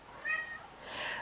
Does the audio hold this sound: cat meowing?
yes